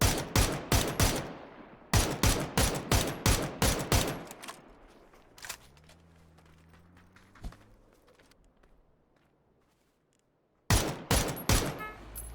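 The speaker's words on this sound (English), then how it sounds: "Nice shots coming out from Solds, putting Zer down" Rapid bursts of automatic gunfire ring out in a competitive video game match, loud and close in quick rhythmic volleys, then a quieter stretch of mechanical sounds before another burst.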